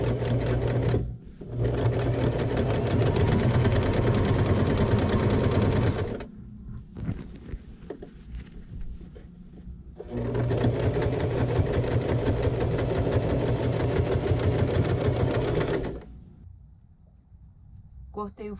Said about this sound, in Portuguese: Vou passar uma costura bem na pontinha.